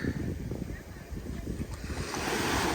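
Ocean surf washing onto a beach in Ireland, a steady broadband rush with rolling swells and some wind buffeting the microphone, building louder toward the end with no voices.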